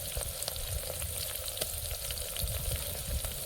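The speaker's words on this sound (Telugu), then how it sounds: "ఇగో అల్లం వెల్లిపాయ ముద్ద వేస్తానా" Ginger garlic paste added to onions and green chillies frying in a pan, a dense steady sizzle with faint crackles and light stirring scrapes throughout, close and even, with no voices.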